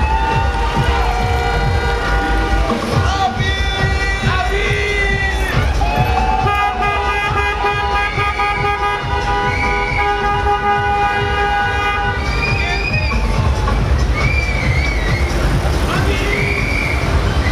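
Car horns toot repeatedly near a school in Jungfrau, Switzerland as students leave, several short and long honks overlapping with vehicle noise, loud and close.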